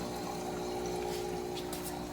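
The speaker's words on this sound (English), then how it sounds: "I can pump the water into the water change tank or" A pump runs steadily, pushing saltwater into a water change tank at a saltwater mixing station, giving a constant close hum with rushing liquid and no breaks.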